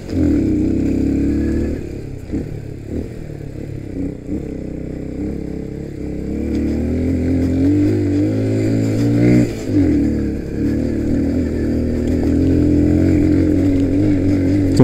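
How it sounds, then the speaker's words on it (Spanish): A Victory MRX 150 motorcycle ridden over a rocky dirt road, its engine droning and revving unevenly close up, with clattering bumps from the rough surface and no talking. "aquí es donde queremos probar realmente esta moto"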